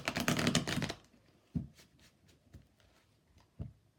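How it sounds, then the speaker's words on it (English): A rapid riffle of tarot cards being shuffled up close, followed by a few soft taps and thumps as the deck is squared. "let's do a quick shuffle"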